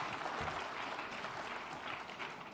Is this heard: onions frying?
no